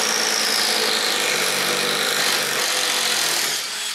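Cordless compact impact drivers, a Makita XDT15 and a DeWalt DCD809, running in a test, giving a loud continuous close buzzing whir that holds steady for several seconds before easing off at the end.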